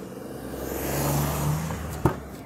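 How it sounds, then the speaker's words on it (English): A car passes close by on a road, its engine rising to a loud peak and then fading, ending in a sharp thump. "Right, hold on, there's a car."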